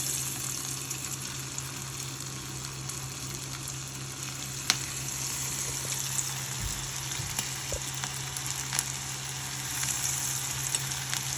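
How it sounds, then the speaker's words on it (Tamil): Battered onion rings frying in hot oil, a constant close bubbling sizzle with a few faint clicks and knocks, no talk. "நான் இப்போ ஒவ்வொரு ஆனியன் ரிங்ஸை அதில் போட்டுக்கிறேன்"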